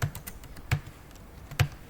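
Keys clatter on a laptop keyboard while HTML text is typed, a few quick close clicks with three firmer strikes spaced about ahead of the others. No talking.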